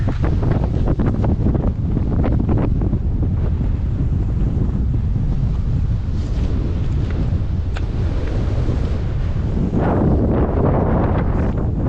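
Strong wind roars and buffets the microphone continuously, with a low rumble of surf beneath, loud and unbroken throughout.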